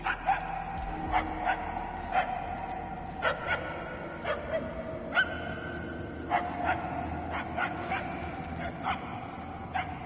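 Distant dog barking comes in repeated short bursts, sometimes doubled, at moderate loudness over a constant low background hum.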